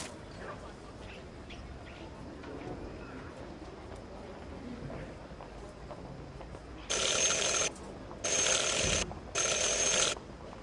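A door bell in the game Syberia rings three times in a row, each ring a bright, sustained electric buzz of about a second, loud over a quiet ambient background.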